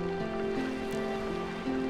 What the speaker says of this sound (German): Ihr hört Eponas Thema im Hintergrund, auch seit Ocarina of Time.